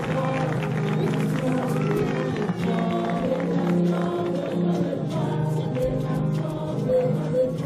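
Church congregation at a mission gathering in Nantes acclaiming and clapping, a dense continuous roar of cheers, voices and applause filling the room throughout, with music or singing woven underneath.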